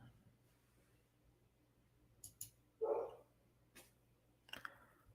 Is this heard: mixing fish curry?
no